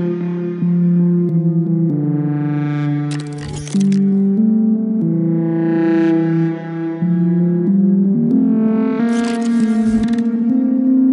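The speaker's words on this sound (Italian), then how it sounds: "ho creato una patch tutta mia, alla quale ho collegato il cut off di un filtro passa alto ad un oscillatore" An Arturia Pigments synth patch sustains chords while a slow 0.3 Hz oscillator sweeps the high-pass filter cutoff. Brightness swells and falls in three slow waves, with short crackling bursts at the peaks.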